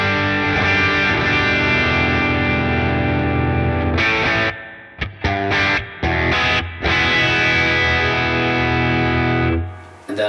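Distorted Harley Benton ST-20 Strat-style electric guitar with a bright, biting bridge-pickup tone, sustained chords with a few short choppy stops midway, loud and close.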